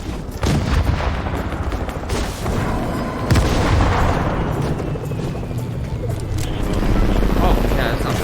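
RPG rocket blasts boom repeatedly in an online shooter game, heavy low rumbling explosions mixed with gunfire and a helicopter's drone, loud and continuous throughout with a voice talking over them.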